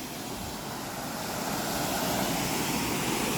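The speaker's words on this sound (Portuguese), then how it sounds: "Alto Padedel, linda cachoeira, velho, linda." Waterfall in the Serra do Gandarela spilling into a clear pool, a loud, unbroken rush of falling water filling the whole clip, steady and close with no voices over it.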